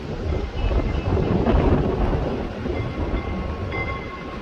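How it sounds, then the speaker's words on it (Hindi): Strong wind roars across the Rohtang valley, a loud, dense, buffeting rumble that swells and eases slightly throughout, with no voices. "पूरी तेज़ तरार हवा चल रही है, आप सुन सकते हैं।"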